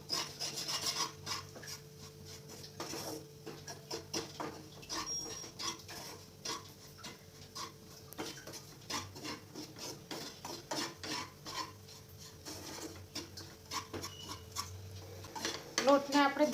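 Rajgira flour is stirred and roasted in ghee in a pan. A spoon gives repeated close scraping and rubbing strokes with faint clinks against the pan, under occasional quiet talk.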